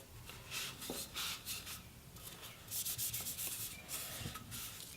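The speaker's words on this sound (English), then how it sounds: "I'm going to wipe any of the excess off the outside." A cloth wipes excess oil off the outside of a wooden piece with soft, close rubbing strokes in short repeated bursts. The sound is quiet and has no voices.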